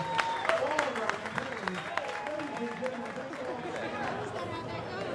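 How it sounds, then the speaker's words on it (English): Spectators at an oyster eating contest clap amid crowd chatter, a moderate, somewhat distant burst of applause mixed with voices. "Let's have a big round of applause."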